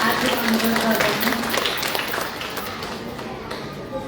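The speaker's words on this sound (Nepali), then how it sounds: "उहाँलाई जोरदार ताली बजाएर सम्मान गरिदिनु हुन हार्दिक अनुरोध गर्दछु" An audience at a Nepali community event claps for a guest speaker, a brief burst of applause that fades gradually beneath a talking voice over a public address system.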